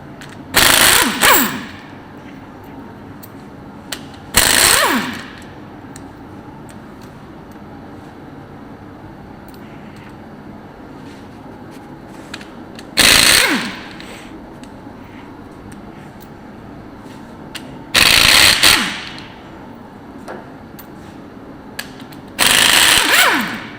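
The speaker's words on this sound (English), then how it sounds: "So I pull all these bolts out right here." Planetary hub bolts come out of a New Holland 9482 tractor in five loud, separate bursts of powered wrenching, each lasting about a second, with quiet workshop background between them and no one talking.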